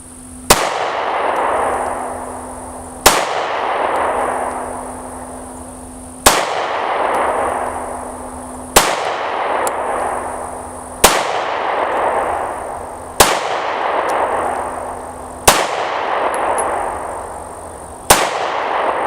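A Beretta APX A1 Carry pistol fired at a target five yards away: eight loud, sharp reports at an even pace, each one ringing briefly before the next.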